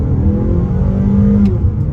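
A 2022 Mazda CX-30 four-cylinder engine revving high in first gear, sport mode, with a steady droning pitch that rises slightly, heard from inside the car, loud and continuous.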